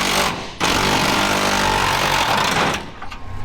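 A 3/8 impact gun working bolts off a damaged truck, giving a loud, steady buzzing rattle for about two seconds after a brief burst, with no talk over it.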